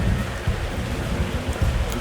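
Rainfall in the video game Ark: Survival, a steady low hiss of falling rain with soft patter throughout, moderately loud and continuous with no talk.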